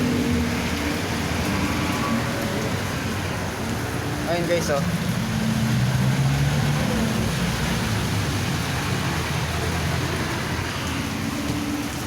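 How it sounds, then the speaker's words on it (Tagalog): Heavy rain falling on a wet morning, a dense continuous hiss that fills the whole clip, with someone talking briefly over it. "bali malakas ang ulan pa rin."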